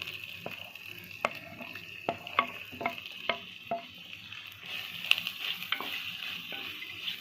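Finely chopped onions sauté in a pan at an outdoor cooking setup, a soft steady sizzle broken by sharp clicks and scrapes of a stirring spoon, close and moderately loud, no voices.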